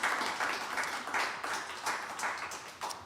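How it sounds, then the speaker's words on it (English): An audience claps at a live radio show of bluegrass music, a moderately loud, even patter of clapping that carries on for a few seconds without talk. "how about one more round of applause"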